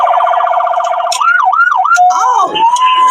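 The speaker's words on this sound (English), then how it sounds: "He got the siren, he got the horn, he got the loudspeaker, he got the police radio" A police-style siren sounds from an impersonator's car, a loud close wail that then switches into rapid yelp sweeps and rising tones, filling the short clip without a break.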